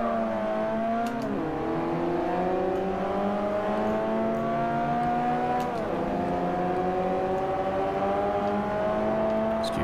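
Citroen race car lapping Silverstone National Circuit in Forza Motorsport 4: a loud, continuous engine whine climbs steadily through the revs, dropping briefly at two gear shifts, heard from inside the car without talk.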